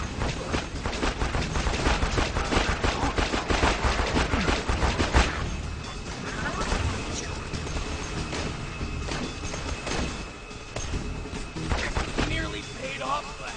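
Gunfire from the video game Borderlands 2 in rapid bursts and thuds, dense through the first few seconds and then sporadic, heard alongside game effects.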